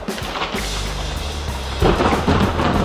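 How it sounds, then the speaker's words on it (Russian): Thunderstorm with rain in the Carpathian mountains, a deep rolling thunder rumble swelling and cracking over steady hissing rainfall, loud and close. "Дождь перерос в грозу."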